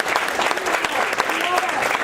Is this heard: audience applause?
yes